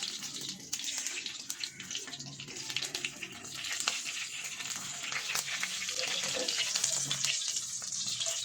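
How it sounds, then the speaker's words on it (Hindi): A continuous bright hiss and crackle of cumin seeds sizzling in hot oil for a kadhi pakora tempering, steady and close, with no talking. "हम जीरे का तड़का लगा लगे ये अंदर जीरा ऐड कर दिता"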